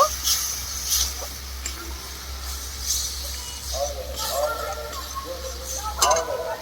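Spice paste with ground coriander and a little sugar is stirred and sautéed in a pan, a soft sizzle under light clinks and scrapes of a spoon, while a voice talks over it.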